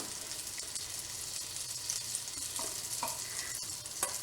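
Butter melting and sizzling in a pan, a soft continuous crackle with a few faint clinks and stirring sounds, quiet and steady throughout.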